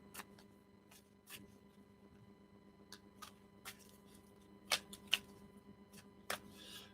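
Cards are shuffled quietly by hand during a reading, scattered soft clicks and snaps spread across several seconds, close and faint over a low hum, with no talk.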